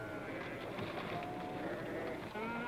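A dense flock of hemmed-in sheep bleats continuously while herded through a gate, with many overlapping calls from some distance under a steady rumble.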